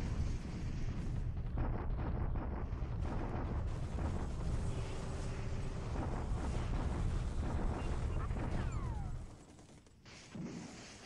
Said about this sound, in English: the daily bombardment at Changsha